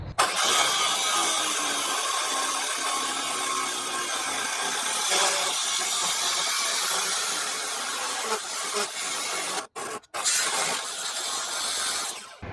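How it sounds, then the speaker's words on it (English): Harsh, continuous grinding of a blade cutting through a metal plate, loud and close, running steadily with a couple of brief pauses near the end. "We have this marked where we need it to be cut, so we'll do that right now"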